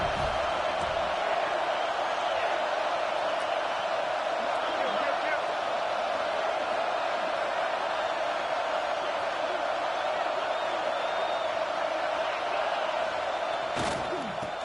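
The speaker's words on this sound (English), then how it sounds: "Listen to the crowd energy here in the early going." Stadium crowd at a football game, a constant loud roar of cheering and noise filling the space, with a brief slam-like thud near the end.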